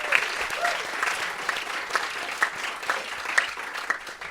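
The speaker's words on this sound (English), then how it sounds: "give yourselves a round of applause" A live audience at the Comedy Cellar breaks into a round of applause, a steady wash of many hands clapping with a few sharper claps standing out, sustained evenly throughout.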